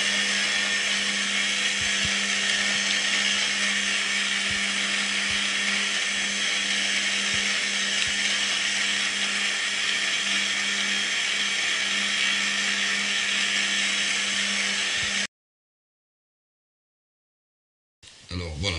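An electric mixer beats butter cream at speed 1, giving a loud, steady motor whir for about fifteen seconds before cutting off into silence, then starting again briefly.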